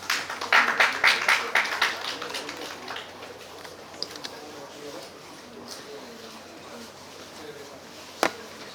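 An audience applauds student presenters at a startup pitch event, a burst of clapping that is loudest at the start and then thins out to scattered claps and quiet room noise, with one sharp tap near the end.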